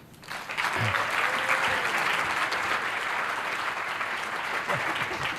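A seated audience at a happiness talk by Sean Achor breaks into warm, sustained applause that swells in quickly and holds steady, a dense clapping roar with no speech over it.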